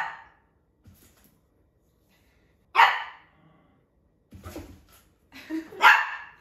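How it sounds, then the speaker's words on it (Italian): A dog barking indoors at home, a few sharp separate barks with long silent gaps between them, close and loud, ending in a quick double bark. "Volete sapere perché abbaia?"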